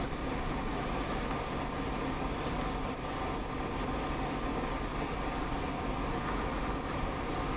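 Steady pen-on-paper scratching as a circle and curved arcs are drawn for a caterpillar filler design, continuous and close throughout with no pauses or talk.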